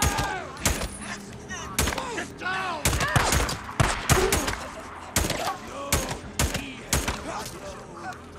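Gunfire in the Days Gone video game, a rapid series of sharp, loud shots and bursts at irregular intervals, close and punchy, with voices shouting between them.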